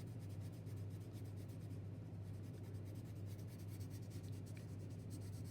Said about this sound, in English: Okay, so I'm colouring sort of the next centimetre